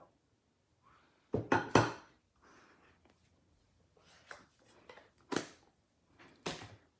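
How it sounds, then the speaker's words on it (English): A spoon scraping and clinking inside a small container of Mango Melody ink, in scattered bursts of knocks and scrapes, close and fairly quiet, with short pauses between. "Get a spoon and squish it around."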